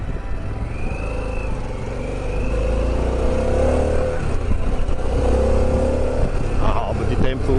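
Harley-Davidson Pan America motorcycle engine running steadily while riding along a road, a continuous mid-level drone with slight swells as the throttle changes, heard up close with someone talking over it.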